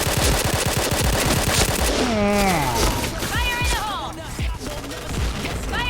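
Rapid automatic fire from a K2C assault rifle in the shooter game Point Blank, a loud continuous burst of closely spaced shots overlapped by game effects and a voice speaking.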